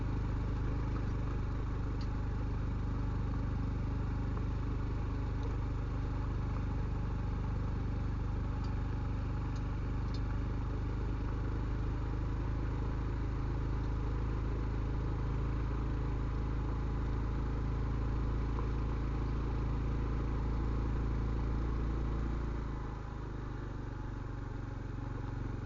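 Honda Trail 125 CT125 motorcycle engine labouring up a steep trail in Arizona's Mule Mountains, a steady mid-pitched drone with a low hum that eases slightly near the end, no voices.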